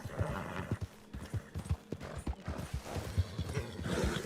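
Hooves clip-clop at a steady galloping rhythm from a horse in Red Dead Redemption 2, loud and close throughout, with scattered snorts and tack creaks layered over the pounding beat.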